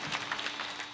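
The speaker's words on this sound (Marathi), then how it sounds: "टाळ्या वाजवा जोरदार" Applause from a devotional kirtan audience in Maharashtra: a brief, steady patter of many hands clapping together at moderate loudness, with no voice over it.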